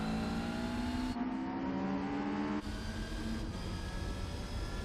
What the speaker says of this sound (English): I really like the sound of those Honda engines